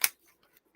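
A single sharp snip of scissors cutting plastic ties on toy figure packaging at the start, followed by a few faint clicks and rustles.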